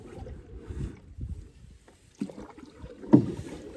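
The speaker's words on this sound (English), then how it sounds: "this is really just an old piece of junk canoe. It's a mid-70s Sears model. It's one of the chopped, blown fiberglass canoes" An old mid-70s Sears chopped, blown fiberglass canoe paddled on a lake, with a few soft, uneven paddle strokes and water swishes close by, light wind noise around them, no voices.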